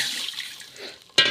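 Water is poured into a cooking pot of greens and lentils being made village style. A soft liquid wash fades out, then a sudden brief splash comes near the end.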